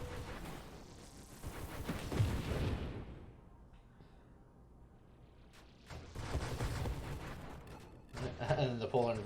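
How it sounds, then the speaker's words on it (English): Explosions in the space shooter Nova Drift arrive as rumbling bursts at the start and again near the end, with a quieter lull between, mixed with synthetic game tones while a voice talks over them. "they start getting sucked into the explosions"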